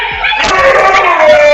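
A husky dog screams loudly in a long, wavering, high-pitched wail that holds steady and close, with a brief slap-like knock near the start.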